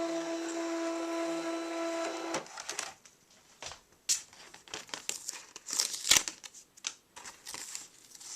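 A cutting machine whirs steadily for about two seconds and stops, then a cut chipboard sheet is unloaded with close crinkling, scraping and papery handling noises in irregular bursts, no speech.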